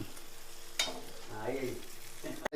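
Mussels frying in a thin-bottomed pan being stirred, with a steady sizzle throughout and a sharp scrape or clatter near the start and again at the very end.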